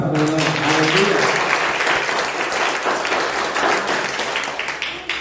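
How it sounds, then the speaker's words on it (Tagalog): Loud, sustained applause from a church congregation during a Sunday worship service praising the Lord, steady dense clapping throughout with some voices mixed in. "So malakas ang palakpak para sa Panginoon."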